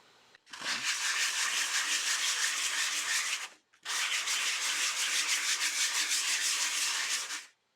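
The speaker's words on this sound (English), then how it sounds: "it's just a sanding pad, 3M sanding pad. Probably a medium grit." Two long passes of steady, rhythmic hand sanding with a 3M medium-grit sanding pad, close and even, separated by a brief pause.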